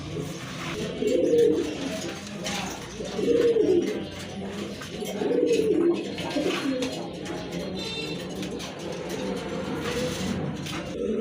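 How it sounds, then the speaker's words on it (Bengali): Pigeons coo in low, throaty bursts, three clear rounds a couple of seconds apart, close by, over a faint background hum. "খুবই সুন্দর এক জোড়া কবুতর"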